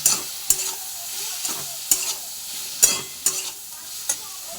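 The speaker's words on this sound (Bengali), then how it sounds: "অল্প পরিমাণ লঙ্কার গুঁড়ো, দিয়ে আবার ভালো করে নেড়ে চেড়ে নেব" Turmeric and chili powder frying in a pan and being stirred, with sharp, regular scrapes of a spoon over a steady low sizzle, close and clear.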